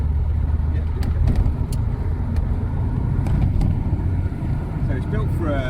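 A 1932 Lanchester car driving, its engine and road rumble steady and close inside the cabin, with occasional light clicks and rattles and no voices over it.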